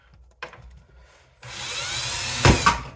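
A drill bores through white plastic from a BMW window motor, whining steadily for over a second before a harsher burst as the bit breaks through, with a few small knocks beforehand and no talking.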